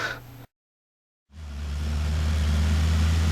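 A car drives in the video game Battlegrounds, a steady low engine drone that cuts out into a second of silence and then returns, rising and holding at close range.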